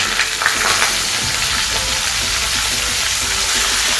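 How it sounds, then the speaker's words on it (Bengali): Chopped snake gourd hits hot oil tempered with nigella seeds and sizzles loudly and steadily, with some stirring, close up and with no voices. "ফোড়নটা হয়ে গেলে এর মধ্যে আমি কেটে রাখা চিচিঙ্গেটা অ্যাড করে দিচ্ছি"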